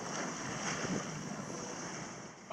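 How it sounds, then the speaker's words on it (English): Pacific Ocean waves roll into a bay under steady wind, a continuous broad wash of surf and gusting air with no distinct breaks, heard from a sailboat. "The Pacific waves rolled into the bay."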